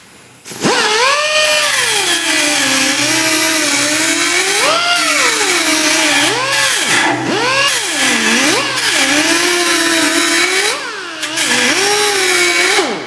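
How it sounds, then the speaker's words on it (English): Edge of a 1959 GMC Apache Fleetside truck door ground with a power grinder, a loud continuous whine that rises and falls in pitch as the tool bites into the metal, running nonstop for several seconds. "I'm just going to grind this edge just to separate these two pieces here"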